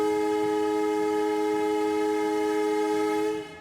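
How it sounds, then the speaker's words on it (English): A heritage railway's train whistle gives one long, loud, steady multi-tone blast that holds for over three seconds and then cuts off, with no voices over it. "the train whistle blows"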